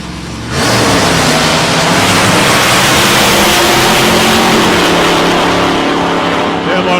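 A drag racing car at a Wild Bunch Wars event roars off the line, its engine bursting in loud after half a second and holding a harsh, sustained blare to the end.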